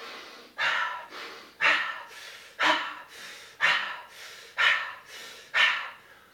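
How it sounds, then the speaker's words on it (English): Fire breath, a rapid breathing exercise done at home as part of a workout, heard as six forceful nasal breaths in an even rhythm, loud and close, with no talk. "Go into the fire breath."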